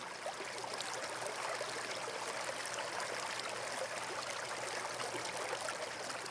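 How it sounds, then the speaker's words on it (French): A small stream trickles and babbles steadily over stones, a soft, even watery hiss with fine bubbling detail, close and unbroken, no voices. "Ce petit ruisseau masse votre peau et vos muscles superficiels au passage."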